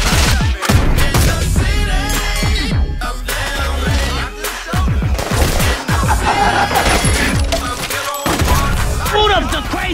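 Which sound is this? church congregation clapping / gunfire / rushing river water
gunfire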